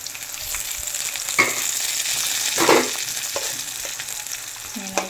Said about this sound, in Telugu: ఇదిగోండి ఇలా ఫ్రై అయింది కదా, ఇందులోనే ఆనియన్స్ వేసుకున్నాను.